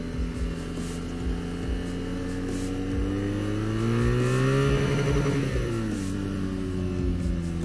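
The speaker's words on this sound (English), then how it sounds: "That's a rev limiter." A BMW R nineT motorcycle engine drones through a corner, its pitch climbing hard and briefly holding at the rev limiter before dropping back, loud and close with a steady pulsing exhaust beat.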